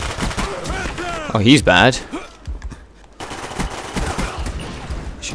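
AK-74 rifle fire in a first-person shooter game erupts in rapid bursts, with sharp repeated shots, under a commentator's excited talk.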